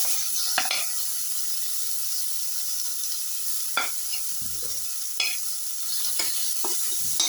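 Tomato pieces sizzle steadily in a hot pan with coconut and shallot, broken by a handful of sharp scraping stirs of a spatula against the pan, no talking.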